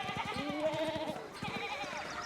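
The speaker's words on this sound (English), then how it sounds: "I'm glad all of these sheep are blocking the path of where I don't need to go." Sheep bleating in the video game Pentiment, several wavering bleats that overlap softly at a moderate distance, one long call followed by shorter ones.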